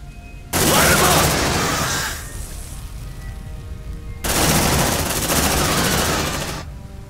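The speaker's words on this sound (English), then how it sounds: "Deploying sentry gun." A sentry gun in the Aliens: Dark Descent video game lets off two long, loud bursts of rapid automatic fire, each lasting about two seconds, separated by a lower hum of background noise.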